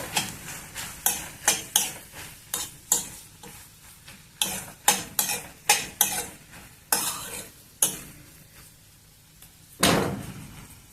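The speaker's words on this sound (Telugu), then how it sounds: "అల్లం వెల్లుల్లి కూడా కొంచెం ఆయిల్లో కొంచెం మగ్గితే బాగుంటుంది" A spoon stirs ginger and garlic sautéing in oil in a pan for potato curry, making a steady run of sharp metallic scrapes and taps over a soft, constant sizzle.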